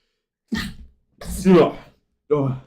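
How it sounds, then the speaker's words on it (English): A few short, sharp bursts of a strange-sounding sneeze, loud and close, separated by brief silences. "That's a weird fucking sneeze"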